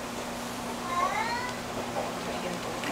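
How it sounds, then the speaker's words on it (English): A playful kitten meows several times in short, slightly rising calls, fairly close, over a low steady hum with faint background murmur. "What a playful kitty."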